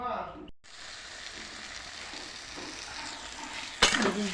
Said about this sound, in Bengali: শাকের মধ্যে সবজি দিয়ে দিয়েছি, আলু, কুমড়ো, বেগুন, একটু নুন হলুদ দিয়ে লাল লাল করে ভেজে নিয়ে